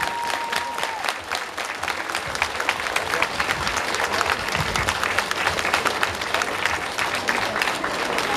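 Sustained applause from an audience at a folk performance celebrating a kindergarten's fiftieth anniversary in Svishtov, dense and continuous with crisp individual claps, while voices murmur and speak underneath.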